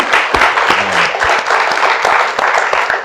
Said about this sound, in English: Ladies and gentlemen, please give our distinguished panel a round of applause.